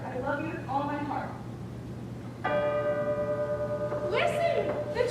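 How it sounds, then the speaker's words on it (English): A church bell strikes once with a bright, ringing tone that hangs and slowly decays, following a voice and overlapped by further speech near the end. "Listen, the church bells."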